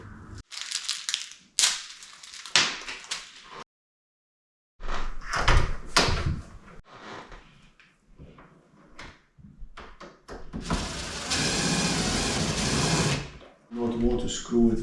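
A closet door handle and latch are worked repeatedly, giving clunks, rattles and scraping knocks at close range, with a longer grinding stretch partway through and people talking between the sounds.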